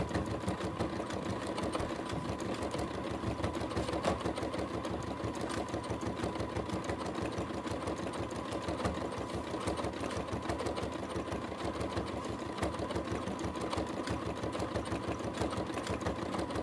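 A sewing machine stitches down pieces of a horse collage quilt, its steady rapid needle chatter running continuously and close by with no pauses and no talking.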